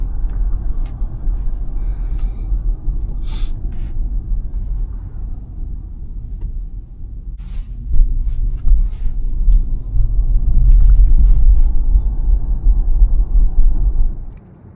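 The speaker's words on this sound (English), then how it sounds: "You still have that whirring from the battery, but it is a very nice ride" Tesla Model Y electric car on the road, heard from inside as a steady low rumble of tyres and drivetrain with a faint battery whir, swelling louder toward the end, no talk.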